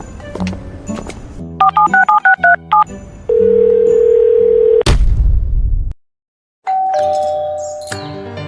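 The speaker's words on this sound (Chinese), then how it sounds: "稍等，我打个电话。" A phone's keypad beeps through a quick run of dialing tones, followed by a long steady tone and a sharp click, then ringing tones. It is close and clear, with no talking.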